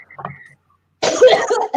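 A woman coughs in a harsh, rough burst that lasts nearly a second, close to the mic, after a quiet pause and a few faint earlier sounds.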